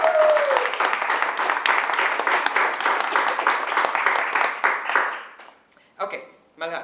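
Loud, sustained audience applause and cheering for an actor at a Gujarati film talk show, a dense wash of clapping that runs for about five seconds before tapering off as voices cut in.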